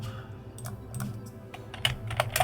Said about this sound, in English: Nothing more than nice rhythmic keyboard. Clackety clackety.